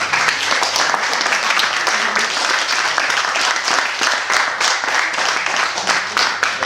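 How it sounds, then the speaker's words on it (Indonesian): Sustained applause from an audience at a talk show event, dense steady clapping throughout, loud and close, continuing unbroken from start to finish. "Oke, tepuk tangan."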